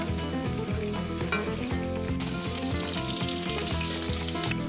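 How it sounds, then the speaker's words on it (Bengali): Boiled young jackfruit pieces fry in oil for a spicy jackfruit curry, giving a dense, continuous sizzle with occasional stirring. Steady background music plays throughout. "ওই তেলেতেই সিদ্ধ এঁচোড়গুলো ভেজে নিচ্ছি।"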